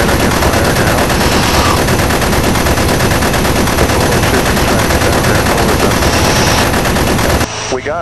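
Aircraft guns fire in one loud, unbroken automatic stream lasting about seven seconds and then cut off abruptly, on a plane fitted with a K-14 lead computing gunsight.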